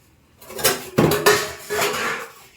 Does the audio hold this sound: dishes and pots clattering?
yes